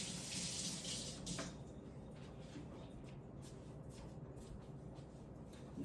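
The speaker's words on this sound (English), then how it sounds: "Washing my hands." Running tap water splashes into a kitchen sink while hands are washed during preparation of Southern-style cornbread dressing, a steady close hiss that briefly louder at the start and then evens out.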